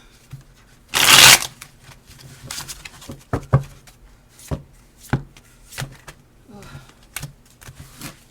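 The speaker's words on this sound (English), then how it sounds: "One more shuffle." A deck of playing cards is riffled in one quick burst, followed by a series of soft taps and shuffles as the cards are squared and handled nearby.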